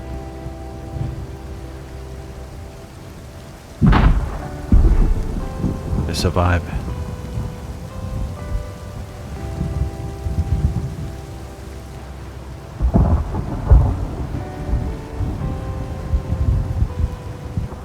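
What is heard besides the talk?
thunder and rain in the video game Rust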